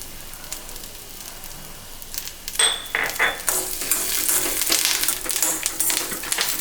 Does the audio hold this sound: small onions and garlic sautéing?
yes